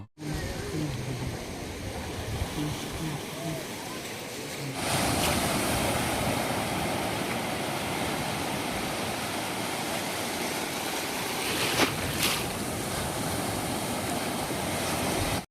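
Sea waves roll onto Mandarmani beach as a steady, broad roar of surf mixed with wind buffeting the microphone, growing noticeably louder and fuller after the first few seconds and continuing without a break.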